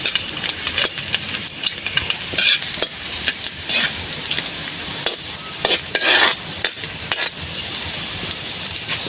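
Garlic sizzles and crackles steadily in a hot pan, with intermittent scraping stirs from a utensil close up and no talking.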